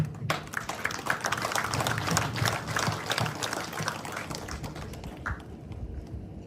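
Audience in a village gathering in Parishara, South Rupununi, applauding women on International Women's Day: steady crowd clapping throughout, moderately distant, gradually thinning toward the end.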